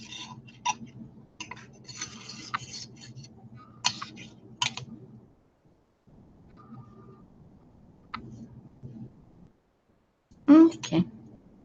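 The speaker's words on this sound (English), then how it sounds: "Actually, I'll have to get my keyboard here." Indoors, a computer keyboard clatters in quick irregular bursts of clicks, with pauses and a louder burst near the end. Faint low background noise runs under it.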